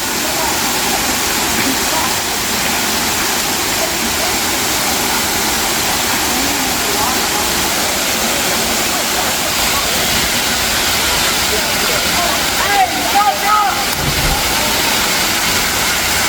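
A waterfall at Turkey Creek, Alabama, roars in a steady, dense rush of water that fills the whole scene without pause.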